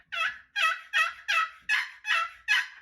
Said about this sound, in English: got this box call